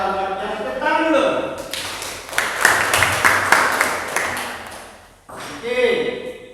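A school chemistry class clapping hands together in a rhythmic group clap, a burst of many quick claps in the middle of the passage, with a teacher's voice speaking before and after.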